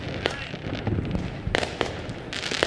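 Fireworks sound effect played during a live-streamed fundraising event: a run of sharp crackling bursts and pops, with several loud bangs spaced irregularly over a steady noisy background, while people talk underneath.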